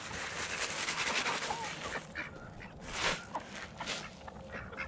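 Farmyard ducks quack in a lively, overlapping chorus close by, with bursts of louder calls rising and falling amid faint rustling.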